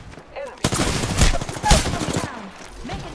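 Rapid gunfire in a multiplayer shooter game, dense bursts of shots crackling loudly for a couple of seconds before tapering off, heard alone without talk.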